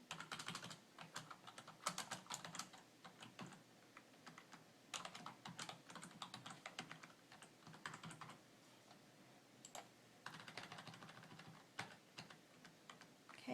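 Typing on a computer keyboard while filling in an online form, rapid clustered keystrokes in bursts with short pauses between words, close and clear, with no talking over it.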